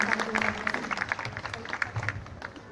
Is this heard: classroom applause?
yes